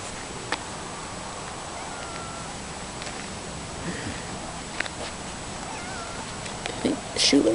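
A house cat meows a few times, faint and fairly distant, beneath ongoing talk in an indoor room.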